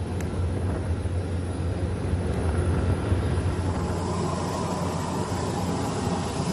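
An Indonesian Air Force Caracal helicopter landing with a relief-aid delivery gives a loud, continuous rotor and engine roar. The rumble holds steady and close throughout, with no speech.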